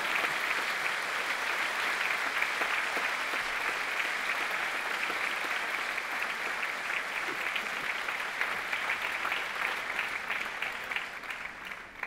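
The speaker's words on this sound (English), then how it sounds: "Wendy Mogel, big round of applause." Sustained, dense audience applause following a parenting education talk, a loud, even roar of many hands clapping that holds steady for the whole stretch before tapering slightly at the end.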